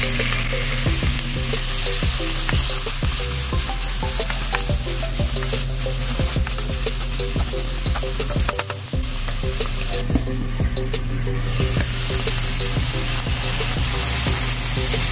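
Mushrooms frying in a pan for chicken Marengo, with a steady loud sizzle broken by repeated scraping and clacking stirs of a utensil, no talking.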